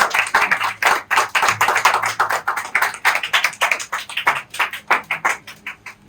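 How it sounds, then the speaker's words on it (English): A small audience at a student parliamentary debate claps by hand in distinct, separate, fairly close slaps with an uneven rhythm, the sparse clapping carrying on steadily throughout. "Please clap for it."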